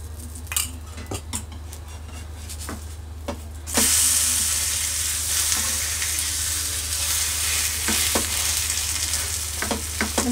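A vegetable pancake sizzles loudly in a pan with ghee, a steady frying hiss joined by sharp clinks of a utensil against the pan.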